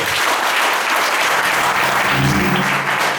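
A Pentecostal church congregation at Sunday prayer claps loudly for Jesus, a full, sustained burst of applause filling the room, with a faint low tone surfacing near the end.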